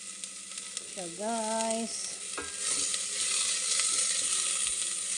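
Garlic sizzles in hot oil in a frying pan at the start of a pumpkin soup, a steady crackling hiss throughout, with a brief spoken phrase near the start.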